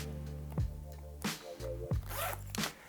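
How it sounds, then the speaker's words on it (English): A side zipper on a leather and twill vest is pulled open in four quick, close zips, each a short rasping burst with brief pauses between. "the unique thing about this vest is the side zipper relief, full on"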